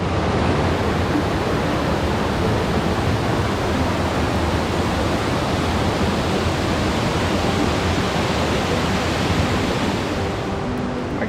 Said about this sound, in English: you have a beautiful waterfall coming off of the lake to begin, where the dam is, and then it comes down the river here to the bottom